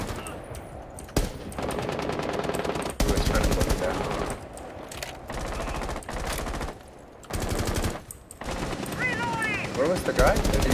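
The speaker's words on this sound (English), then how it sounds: "Where was the guy that you were shooting at?" Automatic gunfire in Rainbow Six Siege, loud and close, arrives as sustained bursts and rapid volleys broken by short pauses, with speech mixed in.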